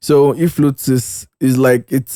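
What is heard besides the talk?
None of the usual background noises is heard.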